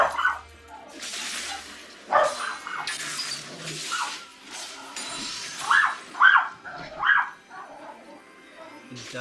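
Several dogs barking, yipping and whimpering in bursts, some loud and close, with pauses of quieter background between outbursts.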